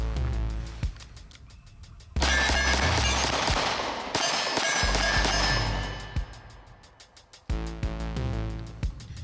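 A Glock 26 Gen 5 pistol fitted with a DPM recoil system fires outdoors in several sharp, loud shots, some in quick succession, each with a ringing tail, between stretches of quieter background.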